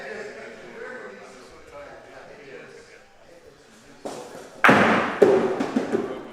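In a lawn bowls club championship, a shot bowl strikes another bowl, a sharp knock near the end followed by a few lighter clicks, after commentary talk.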